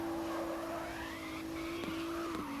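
Drifting car on the San Palazzo track in the CarX Drift Racing 2 video game, engine holding a steady high drone with tire squeal and skid noise rising and falling through a continuous slide.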